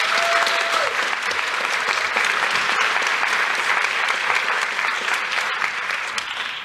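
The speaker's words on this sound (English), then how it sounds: "Please give them a round of applause." Sustained applause from an audience at an African American youth achievement awards ceremony, steady dense clapping for nearly seven seconds, full and close throughout with a faint tone early on.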